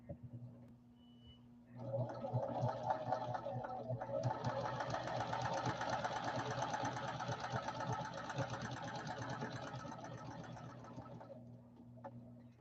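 A smoother-running sewing machine that does not clack starts after a short pause and hums steadily and loudly for about ten seconds, with a fast even stitching rhythm, then winds down near the end.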